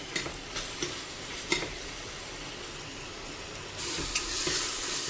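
Tomatoes fry in a pan for chicken biryani under a steady sizzle, broken by occasional sharp stirring scrapes; the frying swells louder near the end.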